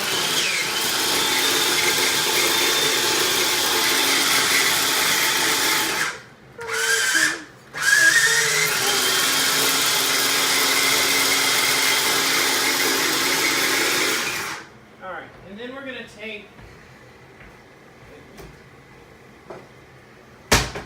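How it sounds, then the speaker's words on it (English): A food processor chops fresh parsley in a home kitchen, whirring loudly and steadily with two brief pauses, then stopping; a few quieter clatters and sounds follow. "I'm gonna add that to the food processor as well"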